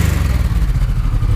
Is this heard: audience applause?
no